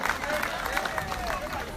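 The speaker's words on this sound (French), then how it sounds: "Et je vous demande d'applaudir très fortement Victorin pour le travail accompli à l'Assemblée nationale." An audience at a political gathering applauds a departing National Assembly deputy, producing a dense wash of clapping mixed with crowd noise and babble, steady and moderately loud throughout.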